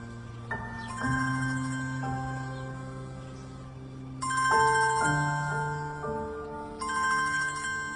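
A telephone rings with a melodic ringtone, repeating tonal phrases that fill the clip loudly and clearly with no talking over it.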